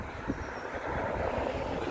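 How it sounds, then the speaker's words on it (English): An Amtrak train runs over a tunnel in Brocton, heard as a steady low rumble and wheel noise from a distance that swells slightly midway and holds to the end. "The train's going over that tunnel in Brocton."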